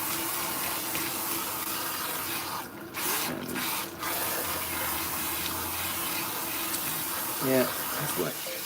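Water runs from a tap while locs are rinsed in a sink, a steady hissing stream with faint splashes and brief interruptions, fairly quiet with a voice speaking at times.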